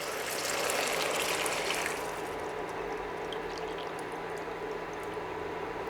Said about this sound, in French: je vais mettre 3 tasses à café d'eau